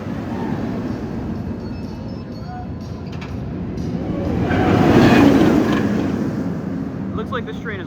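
A roller coaster train at Six Flags Great Adventure rolling past, a broad rumbling roar that swells and fades, with a person speaking over it.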